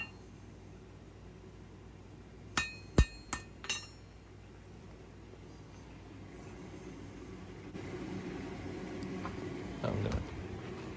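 A small everyday carry knife blade of steel is hand-forged on an anvil, its bevel drawn down with a hammer: four sharp, ringing strikes in quick succession, close and loud, then a steady low workshop hum.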